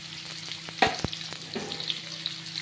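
Stuffed ridge gourd filled with spice masala fries in hot oil, crackling in a steady sizzle broken by a few sharp pops and the clatter of a spoon turning the pieces.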